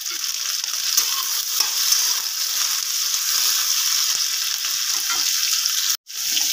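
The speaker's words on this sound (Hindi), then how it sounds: "तेल गरम हे गला ना या दे काटी कर रखीतबा कैप्सिकम के देई करे भलसे खाइमा।" Capsicum frying in hot mustard oil in a pan, a loud, steady close sizzle with faint stirring scrapes, cutting off briefly near the end.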